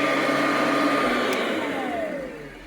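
A Royal model 885 6-amp vacuum cleaner with a HEPA filter runs in a steady, loud whirring drone that fades slightly toward the end.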